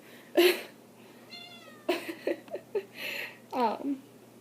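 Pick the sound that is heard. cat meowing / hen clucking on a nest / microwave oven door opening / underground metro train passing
cat meowing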